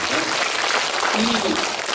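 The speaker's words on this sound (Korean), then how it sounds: "박수를 보내주시기 바랍니다" Audience applause at a prenatal music broadcast event: dense, steady clapping fills the whole moment at a fairly loud level, with a voice faintly audible underneath.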